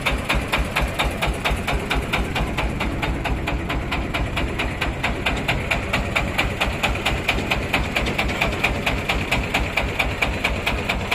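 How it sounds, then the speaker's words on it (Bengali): A vehicle engine idles steadily in the Mathbaria area, giving a constant, close, rhythmic pulsing chug that runs without a break for the whole stretch. "ইঞ্জিনটা বন্ধ করেন।"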